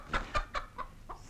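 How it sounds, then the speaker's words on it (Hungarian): A few chickens, including a white one, cluck in a 1943 Budapest film scene, giving five or six short rhythmic clucks close by that fade slightly toward the end. "itt van egy pár csirke"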